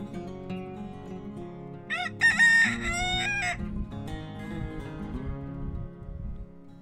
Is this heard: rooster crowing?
yes